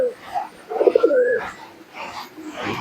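Close Giribaj pigeons coo in soft, throaty bursts, one rolling call in the middle and quieter murmurs around it.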